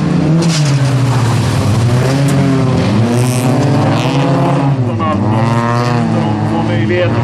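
Folkrace cars race and overtake on a track at Vimmerby, their engines revving loud and near with rising and falling pitch sweeps. A commentator talks over the roar.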